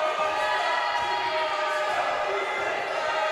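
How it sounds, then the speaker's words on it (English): Crowd at a high school girls' basketball game in the fourth quarter, a broad murmuring swell of spectators with squeaks and a ball bounce, while a commentator talks over the din. "Crowd starting to get into it here in the fourth quarter."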